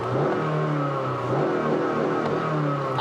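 A 2018 Honda Fit Sport's 1.5-liter Earth Dreams direct-injection four-cylinder with a six-speed manual, running close by with a steady engine note that rises and falls as it revs, heard alone without talk.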